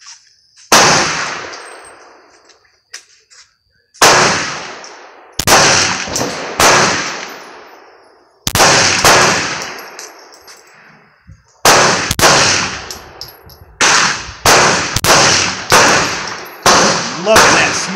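A rifle fired from a 17-round magazine: loud, sharp shots outdoors, first spaced singly and then in quicker bursts, each ringing out with a long echoing decay.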